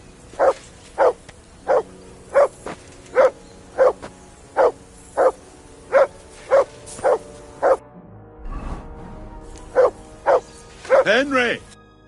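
A dog in Kingdom Come Deliverance 2 barks in a steady, evenly spaced run of about a dozen loud, close woofs, pauses briefly, then gives a few more barks and a whining yelp at the end.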